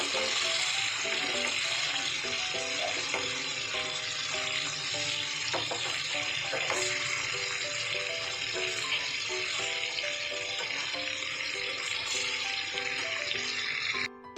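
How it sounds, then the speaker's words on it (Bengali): Chicken leg pieces fry in oil, a continuous dense crackling sizzle with spatter and occasional clinks, steady and close throughout, with no voices. "এটাকে আমি ফ্রাই করে নিচ্ছি বেশ ভালো করে"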